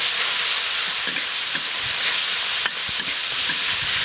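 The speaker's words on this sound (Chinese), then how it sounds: "这些辣椒下锅" Chili peppers sizzling and hissing loudly as they are stir-fried in a hot wok, a dense continuous frying sound with occasional scraping stirs and no talking.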